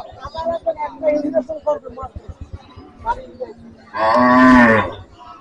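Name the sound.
cow mooing at a cattle market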